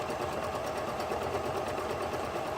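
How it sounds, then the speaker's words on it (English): A sewing machine runs continuously up close while stitching backwards and forwards on denim jeans to mend a hole, giving a rapid, even mechanical whir with no pauses and no speech. "you put your presser foot down, and you go backwards, forwards, backwards, forwards"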